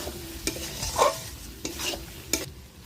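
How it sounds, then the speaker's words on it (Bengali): Mutton being stirred and fried with garam masala in a pan, a steady sizzle broken by several distinct scraping stirs close by, with no talking. "একটু কষিয়ে নেব।"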